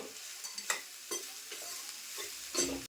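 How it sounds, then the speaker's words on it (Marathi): Okra being stirred and sautéed in a pan, soft intermittent scraping strokes about every half second over a faint sizzle, close and fairly quiet. "तर मी 2-3 मिनिटासाठी अशी ना परतून घेते."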